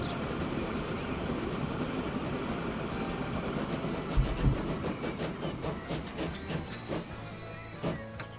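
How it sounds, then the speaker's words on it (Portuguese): A train in the Transport Fever 2 game slowly accelerating, with a steady rolling rumble and hiss, then rhythmic clickety-clack beats and a few low thumps as it picks up, moderately loud and without talking. "O trem demora, né, para acelerar, mas é assim mesmo."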